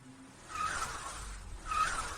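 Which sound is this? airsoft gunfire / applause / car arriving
car arriving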